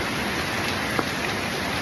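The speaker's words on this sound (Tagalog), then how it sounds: "Ang lakas ng ulan." Heavy rain pours steadily on an island in Camarines Sur, a dense, continuous broadband wash of close drops with one brief louder patter about midway and no talk.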